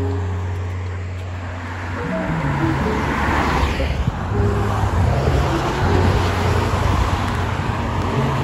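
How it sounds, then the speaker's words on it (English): Cars passing on a road in North Carolina on a hot day, a loud close whoosh of traffic that swells as vehicles go by, with a low engine hum and a rising roar in the middle of the stretch. "Oh man, the cars just keep coming,"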